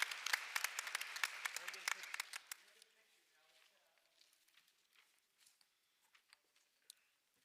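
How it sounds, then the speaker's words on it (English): A round of applause for students at a school board meeting starts dense and lively, then thins to a few scattered claps that fade away. "Another round of applause and paparazzi time, Robin."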